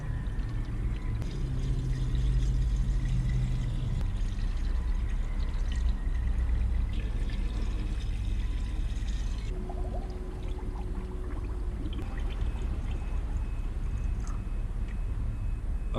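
Engine coolant mixed half and half with water pours steadily into the cooling system of a Chevy Silverado with a GM V8, a continuous close liquid gurgle and splash running the whole time with no talking.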